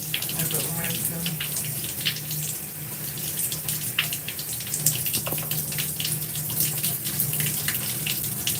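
Water runs steadily from a tap or shower while hair is rinsed, a continuous close splashing rush with irregular spatters and small shifts in flow.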